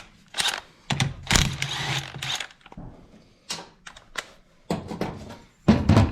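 Tools working on the flywheel of a Kawasaki KLX 110 motorcycle engine under repair: irregular metallic clicks, ratcheting and clanking bursts, close and moderately loud, with short pauses between.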